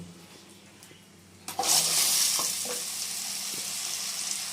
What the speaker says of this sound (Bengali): প্রথমেই আমি আলুটা দিয়ে দেবো